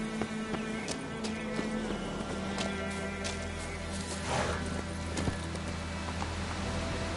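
Horse hooves clip-clop in a steady, close rhythm over a constant low hum, with occasional sharper knocks standing out from the regular gait.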